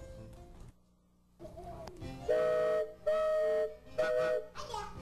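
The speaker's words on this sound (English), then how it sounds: "That's a train whistle." A train whistle sounds in three short, shrill, steady blasts in quick succession, fairly close, with some background noise between them.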